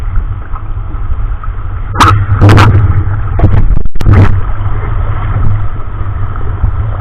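Strong, steady wind roars across the microphone over rough sea with large waves at night, with a few louder gusts and splashing bursts partway through.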